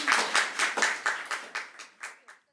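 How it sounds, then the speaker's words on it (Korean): A small group of Korean and Japanese university students claps in a slow, rhythmic unison, about ten distinct claps that gradually soften and stop. "박수 해주세요"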